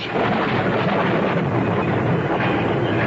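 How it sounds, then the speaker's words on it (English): A low, continuous thunder rumble at the start of the rainy season rolls steadily for a few seconds, loud and broad with no talking, like a storm building. "Did you hear that? Yes, it was thunder."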